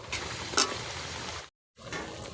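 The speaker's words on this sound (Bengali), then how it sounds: "ক্যাপসিকামটা ভাজা করে নেব।" Chopped capsicum sizzles and fries in a pan while chicken vegetable dum biryani is being cooked, a steady close hiss with a brief stir and a short break in the middle.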